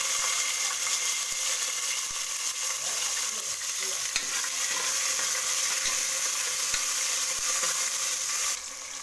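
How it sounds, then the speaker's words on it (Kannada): Mustard seeds, curry leaves, garlic, onion and tomato sizzle steadily in hot oil for cabbage sambar, a continuous close frying hiss with faint crackles and occasional stirring clicks, no voices. "ಎಣ್ಣೆ ಕಾದಿದೆ, ಸಾಸಿವೆ ಹಾಕ್ಕೊಳ್ಳೋಣ. ಈಗ ಬೇವು ಸೊಪ್ಪು, ಬೆಳ್ಳುಳ್ಳಿ ಹಾಕ್ಕೊಳ್ಳೋಣ."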